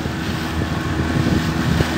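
A boat's new outboard engine droning steadily on the water, loud and close with wind noise on the microphone.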